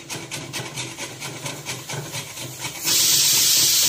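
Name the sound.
pressure cooker hissing steam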